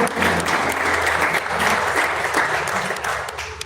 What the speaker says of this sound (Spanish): Usted puede darle un aplauso a Dios